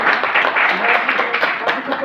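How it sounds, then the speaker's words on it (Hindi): An audience at a Safe Shop success training seminar claps in a steady, dense burst of applause, with voices mixed in over it. "बहुत बढ़िया जोरदार ताली दो साहब को"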